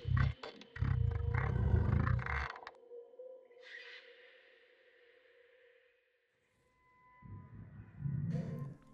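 A deep, resonant Sea Emperor creature call in Subnautica rumbles, fades into a long eerie tonal hum, then returns, low and echoing with no talking.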